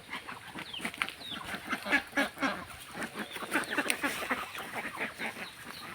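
A flock of ducks nearby in a rural village setting, continuous overlapping quacks and honking calls with a busy, irregular rhythm at moderate volume, no speech.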